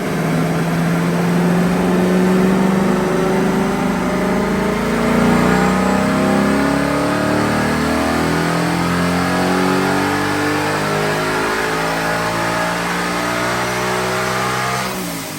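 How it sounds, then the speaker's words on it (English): Supercharged 2021 Ford Mustang Mach 1 with an ESS G3 supercharger revving hard on a dyno, a loud sustained engine climbing steadily through the run before easing off at the end, with no talk. "We're going to get another run on the dyno and see what it does with a little better fuel in the car."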